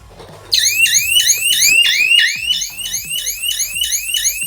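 A security alarm device set off by a door sensor sounds a loud, repeating electronic siren of rapid rising chirps, starting abruptly after a brief quiet moment and continuing steadily without talk.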